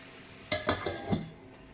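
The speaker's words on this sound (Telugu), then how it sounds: "కాసేపు మూత పెడదాం." Metal cookware clanks as a lid goes onto a pot of chicken cooking on the stove: a short cluster of four or five sharp clinks, close and fairly quiet.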